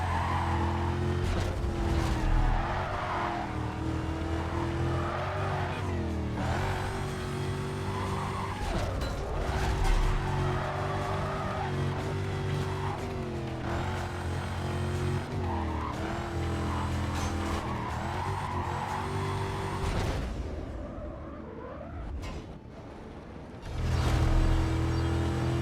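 A heavily modified Mazda RX-7 in Need for Speed Carbon roars continuously as it races and drifts, its engine droning loud and close with tires squealing through skids; the engine note drops away briefly near the end before surging back.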